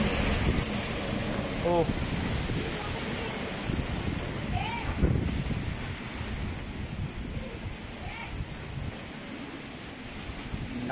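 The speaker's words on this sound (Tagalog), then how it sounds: "Grabe ang hangin." Strong typhoon wind roars steadily across the microphone over open water, with faint surf underneath and a brief spoken exclamation.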